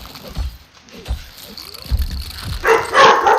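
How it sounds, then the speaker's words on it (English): Dogs barking indoors: a few short, muffled barks and yips scattered at irregular intervals, building into a louder, busier burst at the end. "That's my dogs are barking."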